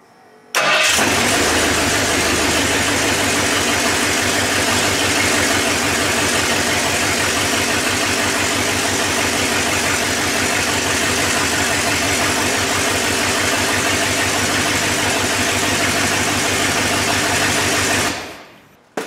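A 1985 Ford Bronco engine cranks, catches and runs steadily at close range, a loud even rumble with a fast regular pulse before it shuts off near the end.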